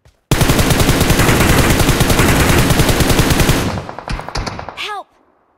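PUBG Mobile gunfire rattles as one long, loud, close automatic burst that breaks into scattered single shots before cutting off.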